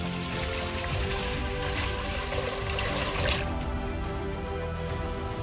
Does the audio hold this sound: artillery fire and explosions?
no